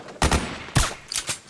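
Gunfire from the Metal Gear Solid 4 video game comes in a few rapid bursts, sharp and close, with brief gaps between the volleys.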